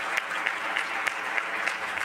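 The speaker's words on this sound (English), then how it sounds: "Can we please give them a round of applause?" An audience at a workshop on women entrepreneurs applauds with dense, steady clapping that carries evenly through the whole moment, full and close.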